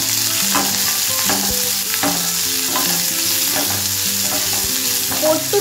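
Onion and green chili fry in a pan while being stirred for a Bengali posto dish of luffa and potato. A loud, constant sizzle runs throughout, broken by repeated scraping stirs, close up and without speech.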